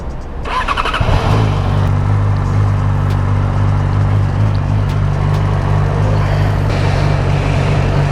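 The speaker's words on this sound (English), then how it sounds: "So right now I'm warming up the bike before I hit the road." A motorcycle engine starts and then settles into a steady, loud, close idle while it warms up on a cool day before riding, with a constant low rumble and no talking.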